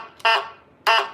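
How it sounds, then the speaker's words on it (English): Two short, bright electronic model train horn beeps, close and loud, separated by a brief pause. "I gotta do the little horn beep."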